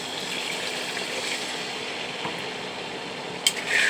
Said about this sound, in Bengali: তো এবার জল অ্যাড করছি